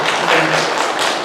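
A burst of applause from a church congregation during a Sunday service, steady and fairly loud throughout, with no one speaking over it.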